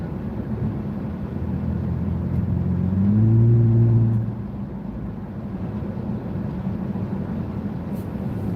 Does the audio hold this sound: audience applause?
no